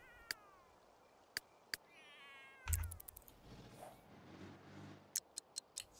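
A cat in The Sims 3 gives a couple of drawn-out meows followed by a short murmuring call, set among sharp isolated clicks and ticks, all fairly quiet and close with no talking.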